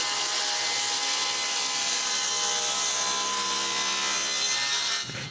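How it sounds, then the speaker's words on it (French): Piece of elm being sawn, a loud continuous rasping stroke that stays close and steady before stopping abruptly near the end. "Je commence par couper un bout d'orme bien carré."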